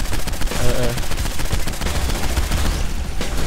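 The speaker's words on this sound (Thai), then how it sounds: "เดี๋ยวผมยิงซัพพอร์ตให้" Heavy gunfire in the Saints Row IV video game during a co-op session, a rapid stream of loud, sharp shots in fast succession, close and sustained throughout, with a brief burst of talk mixed in.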